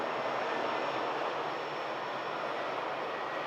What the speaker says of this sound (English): EasyJet just arriving in from Paris Orly